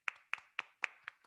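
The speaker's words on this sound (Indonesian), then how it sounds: "Boleh minta tepuk tangannya?" About five crisp hand claps land at an even, quick pace, close and sharp with silence between them, like a small group or a single person clapping for an online audience of a J&T Express East Java webinar.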